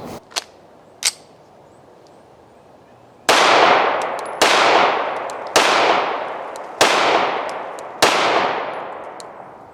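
A Rock Island Armory RIA 5.0 pistol with the RVS recoil system fires five loud, close shots at roughly one-second intervals, each ringing out briefly, after two small handling clicks.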